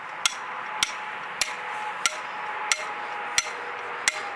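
Seven evenly spaced, sharp hammer blows drive metal trap stakes into the ground while a dirt-hole trap is set for coyote and fox. The strikes sound close and crisp over a quiet outdoor background.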